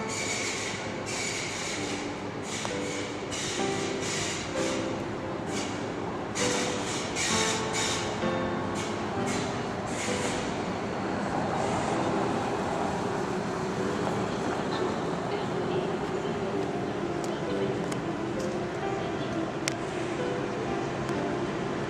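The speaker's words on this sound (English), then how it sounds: "Now, about the ICE train that I filmed a few moments ago." German ICE high-speed train at Berlin Hauptbahnhof at night, a steady loud rumble of rail noise filling the whole stretch, with brief hissing bursts early on and faint metallic squeals, no talk.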